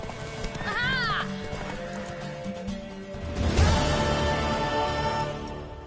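In The Witcher 3, a mare gives a sharp whinny, then hooves gallop in a steady clatter that swells louder midway, with game dialogue layered on top.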